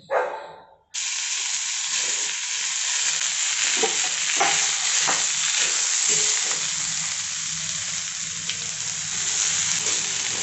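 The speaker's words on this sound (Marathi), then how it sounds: "आता याच्यामध्ये कांदा टाकून घेऊयात" Chopped onion sizzles loudly in a hot pan on full flame for mutton rassa, starting abruptly after a brief clatter and continuing as a steady frying hiss with occasional stirring scrapes.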